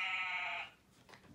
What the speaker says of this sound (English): Animals. Sheep.